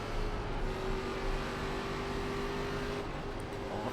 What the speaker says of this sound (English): It keeps blipping on the throttle more and more.